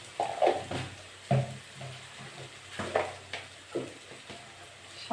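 Ginger and garlic frying in oil in a pan for a Bengali prawn and vegetable curry, soft sizzling with repeated stirring scrapes and clinks in short bursts, close and moderate.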